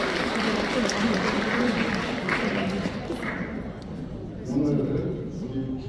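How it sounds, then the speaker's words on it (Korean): Wedding guests applaud as the couple enters the ceremony, a dense, steady wash of clapping with crowd noise that swells again near the end. "입장하실 때 모두 큰 박수로 환영해 주시길 바라겠습니다."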